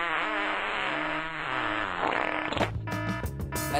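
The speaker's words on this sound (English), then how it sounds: "So tonight he dreams of sending her a very special fart." A cartoon fart sound effect, a long buzzy blat that rises to a loud, sputtering, broken burst near the end, heard alone with a wobbling tonal quality.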